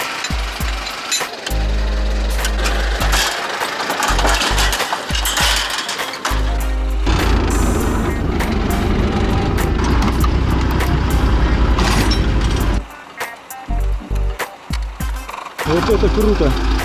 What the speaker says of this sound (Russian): Вытаскивали автомобиль с ямы трактором.